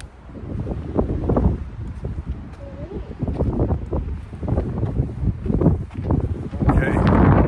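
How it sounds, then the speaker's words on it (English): Gusty wind buffets the microphone in loud, uneven bursts on a Grand Canyon trail between Bright Angel and Hermits Rest, while a person talks over the rushing noise. "Okay, that's windy."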